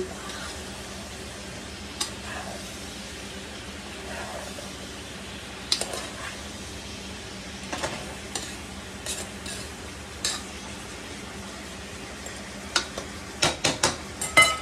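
Pakbet vegetables being stirred in a pan over a faint, constant sizzle, with soft scraping and occasional utensil clinks that grow busier and louder near the end.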